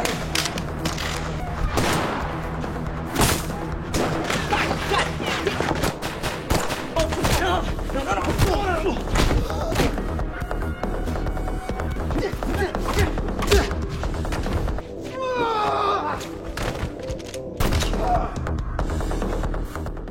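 Gunfight from an action film about a mafia betrayal, dense bursts of gunfire and impacts layered over tense score, loud and continuous, with a narrator talking over it.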